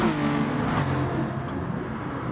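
Gran Turismo GR3-class race cars, including two Subarus and Porsches, roaring past at the start of an online race, a dense continuous engine drone with a slight swell and fade, no voices.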